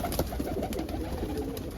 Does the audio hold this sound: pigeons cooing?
yes